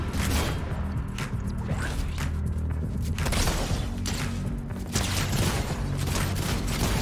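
Dense, continuous gunfire from Fortnite's Zero Build gun game, with overlapping shots, crashes and impacts filling the whole stretch at a loud, steady level.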